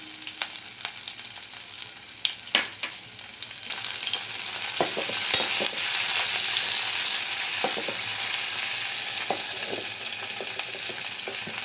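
Chopped onions drop into hot oil and fry in a pan for a lunchbox rice dish, with scattered clanks and scrapes of stirring at first, then a louder, continuous sizzle over steady stirring.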